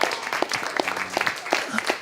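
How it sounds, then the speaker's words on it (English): Brief applause for event organizers at a university TEDx event, a short burst of scattered claps with sparse individual hits, mixed with faint voices. "give a big round of applause of these amazing organizers who have put together this event during these crazy times"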